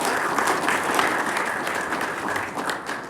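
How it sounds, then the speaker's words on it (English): A short burst of steady applause from an audience, dense clapping at a constant level throughout. "a round of applause"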